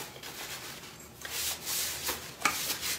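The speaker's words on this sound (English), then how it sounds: "I'm gonna hit these with a paper towel to get the dust off" A paper towel rubs and wipes dust off wooden candlesticks in quick, close, papery strokes with soft scratchy bursts.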